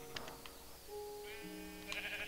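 Sheep bleating on a sheep farm in Minecraft: a couple of short, close, tonal bleats, preceded by some soft clicks and game noise.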